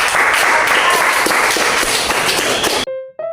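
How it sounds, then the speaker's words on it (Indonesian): A classroom of students claps loudly for a student group, dense close applause that stops abruptly near the end, followed by a short clear tone. "beri aplaus untuk kelompok"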